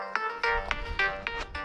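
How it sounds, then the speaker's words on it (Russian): A phone ringtone for an incoming call, heard while fishing on a river, with a bright repeating electronic melody of short pulsing tones, loud and close with no talk. "Так, кто-то звонит."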